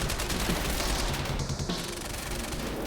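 Gunfire in the video game Quantum Break, a dense rattle of shots blending into a continuous noisy burst that eases slightly midway.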